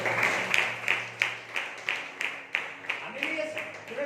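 A church congregation claps together during a Sunday service, a run of about ten evenly spaced bursts of applause over a low steady hum, with no talking over it.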